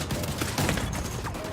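Gunfire from The Division 2 while shooting at an enemy, a quick ragged burst of several shots close together over a noisy game backdrop, fairly faint overall.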